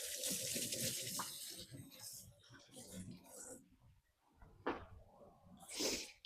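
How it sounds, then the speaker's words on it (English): Tap water runs into a kitchen sink during a hand wash partway through cooking chicken noodle soup, a broad steady rush under a person speaking, with a few clinks and knocks near the end. "All right, wash my hands."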